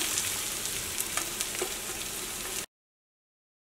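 Onions fry in hot oil with crushed green chili, ginger and garlic, a steady close crackling sizzle with faint stirring ticks that cuts out abruptly into silence.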